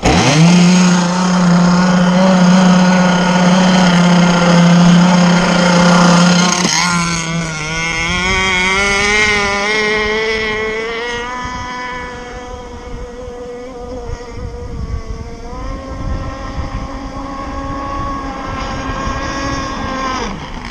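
A Zenoah 30cc gasoline engine on an RC plane runs leaned out, a loud, close buzzing drone that drops in pitch partway through and then steadies with slight wavering, alone without talk.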